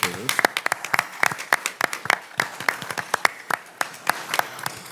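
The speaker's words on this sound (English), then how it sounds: "Please give a round of applause to these educators." Scattered applause for educators at a school board meeting, a sparse set of distinct hand claps from a small group, fairly close and irregular, tapering toward the end.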